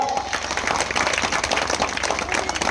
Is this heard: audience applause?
yes